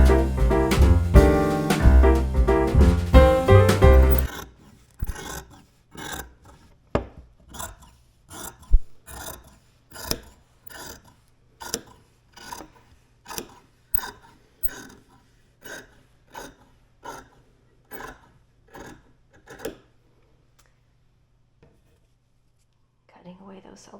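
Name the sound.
cutting out fabric pieces for a prairie skirt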